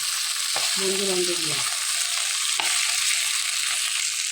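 Rohu fish heads sizzle in a pan with a continuous bright hiss, broken by a couple of sharp clinks of stirring and a brief squeaky tone near the start.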